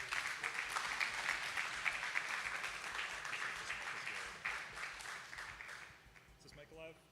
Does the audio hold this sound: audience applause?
yes